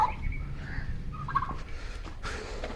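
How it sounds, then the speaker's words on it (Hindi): A turkey gobbles faintly in a cage at a pet house, a few short burbling calls spread over a low background hum, with no talking. "टर्की को हमने जनाब अंदर बंद कर दिया है केज में"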